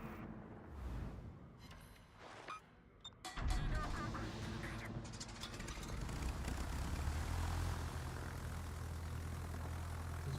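Aircraft engines from the World of Warships video game drone as a steady, rising roar, joined by crackling gunfire and a burst as a plane is shot down.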